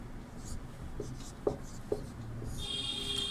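Chalk or marker scraping across a board in short strokes, with a couple of sharper taps, while a faint background hum runs underneath.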